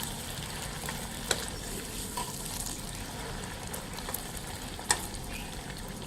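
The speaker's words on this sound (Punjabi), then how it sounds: "ਜਿੰਨਾ ਚਿਰ ਇਹ ਪੂਰੇ ਨਾ ਲਾਲ ਜੇ ਕਲਰ ਜੇ ਨਾ ਹੋਣਾ ਛੱਡ ਜਾਵੇ ਉਹਨਾਂ ਚਿਰ ਆਪਾਂ ਨੇ ਇਹਨੂੰ ਚੰਗੀ ਤਰ੍ਹਾਂ ਐਨ ਫਰਾਈ ਕਰੀ ਜਾਣਾ" Aloe vera sabzi frying in a pan gives a steady, close sizzle with a few sharp clinks of a spoon against the pan.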